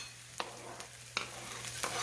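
Sliced green onions hitting a hot frying pan during fried rice cooking, a low steady sizzle punctuated by a few sharp stirring clicks and scrapes spaced about half a second apart.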